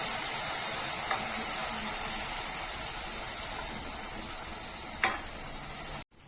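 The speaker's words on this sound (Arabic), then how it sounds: "كده بقى هسقي الشوربه بتاعتي اهي، او الميه الموجوده عندي" Broth hits a pan of frying rice with chicken liver and gizzards, a loud, steady broadband hiss of steam and sizzle with a couple of faint clinks, then cutting off abruptly near the end.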